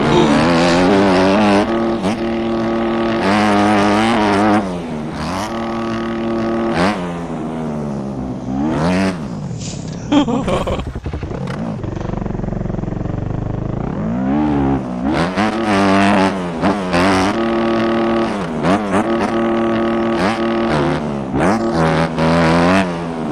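A car engine revs repeatedly, rising and falling in loud close bursts with a rough, broken-up, uneven tone, easing to a lower idle in the middle before climbing again.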